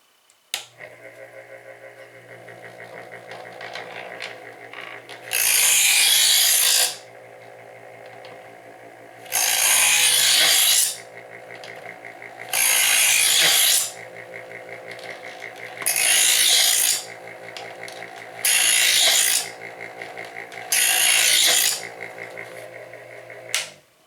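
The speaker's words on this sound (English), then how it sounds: "You want to have it on before you insert the blade into the sharpener." A WHENOW 4-in-1 60W two-stage electric knife sharpener hums steadily while a blade is drawn through it in six separate grinding passes, each a loud, harsh rasp of a few seconds over the motor's constant drone.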